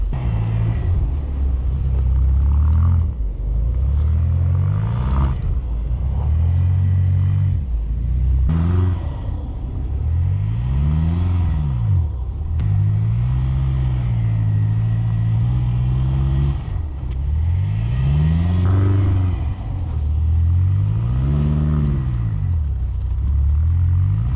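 A Subaru STI and a BMW X5M do donuts in Chicago, engines roaring continuously with repeated rising and falling revs as the cars circle, loud and close throughout.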